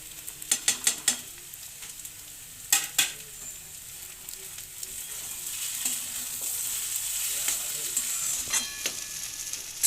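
Ground spices fry in a pan for a prawn chop filling, a steady close sizzle punctuated by sharp clinks and scrapes of a spatula stirring against the pan.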